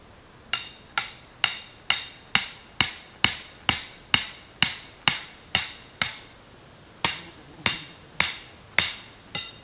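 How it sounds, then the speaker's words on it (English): A hammer strikes a stake into the ground outdoors while building a pole barn, about twenty sharp ringing blows in an even, steady rhythm with a short pause before the last few. "And hammer it in."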